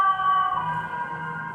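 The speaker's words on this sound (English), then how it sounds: "And there's an ambulance." An ambulance siren sounds steadily for a moment with a sustained wailing tone, fairly loud and alone in a quiet room.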